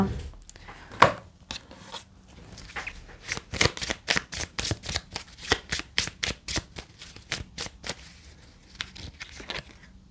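A deck of tarot cards being shuffled up close, a brisk run of dense papery riffles and flicking slaps in quick rhythm that pauses and then resumes briefly near the end.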